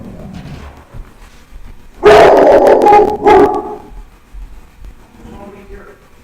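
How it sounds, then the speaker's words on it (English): Dog barking indoors: a quiet lead-in, then a loud burst of several sharp barks in two close clusters, trailing off into faint yips and a low whimper. "Sorry, dog's barking again."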